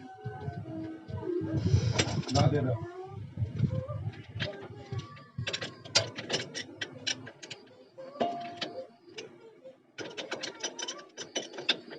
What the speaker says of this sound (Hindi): अब इसका जो भी नट होता है उसे हम लगाकर टाइट देंगे।